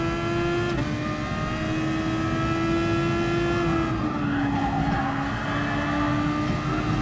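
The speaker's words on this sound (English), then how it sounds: "It's got diff whine and it sounds horrible." A race car in a racing video game, heard from a halo view, carries a high sustained differential whine over a steady engine drone, with the pitch shifting slightly as the car goes on.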